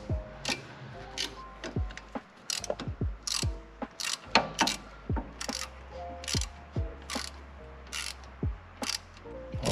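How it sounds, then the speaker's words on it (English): A hand ratchet clicks repeatedly close by while working on a Mazda MX5 brake caliper piston, a steady series of sharp metallic pawl ticks in short bursts over a low background hum. "Kijk, dit is de ratel."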